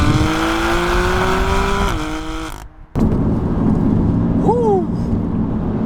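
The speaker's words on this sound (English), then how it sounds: "Listen to that engine, it's something, isn't it?" A BMW M3 Competition engine on a race track rises in pitch under acceleration, shifts and drops out sharply near the three-second mark, then returns as a steady loud drone with a brief squealing sweep later on.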